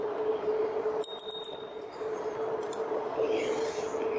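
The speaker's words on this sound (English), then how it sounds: "I ring the bell a lot" A bell on an electric bike rings in a few quick bright dings over steady road and motor noise while riding, followed later by a second short ring.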